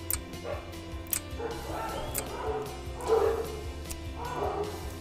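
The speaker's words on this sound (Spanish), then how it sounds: "Los perros en acción," Dogs bark and yip repeatedly at a moderate distance, several short bursts spread across the clip over background noise.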